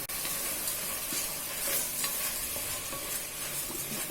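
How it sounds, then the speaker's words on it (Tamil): Tomatoes sautéing in a pan for tomato rice, a steady close sizzle with scraping and clinking as a spoon stirs them, no voices. "தக்காளி நல்லா வதங்கணும்."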